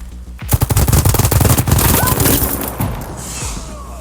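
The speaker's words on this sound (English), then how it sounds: "Full mag of the Stitcher right into him." A full magazine from the Stitcher gun in the video game ARC Raiders fires as a rapid, loud burst of shots. The shots blur into a continuous stutter, then fade into a quieter tail.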